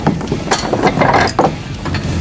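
Metal pivot pins slide and scrape out of the rear bed of a Traxxas Stampede RC truck, producing close, dense rattling and clicking scrapes in quick irregular bursts.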